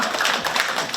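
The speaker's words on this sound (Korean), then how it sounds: "박수 한번 쳐주세요." A dense burst of applause fills a community gathering hall, steady crowd clapping with no clear pauses.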